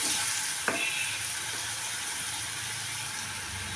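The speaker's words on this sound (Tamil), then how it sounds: "சுண்டைக்காவை சேர்த்துடலாம். நல்லா வதக்கிட்டுக்கொண்டு" Turkey berries and onion are sautéed in a pan, giving a continuous bright sizzle with a single sharp stirring clink near the start and no talking.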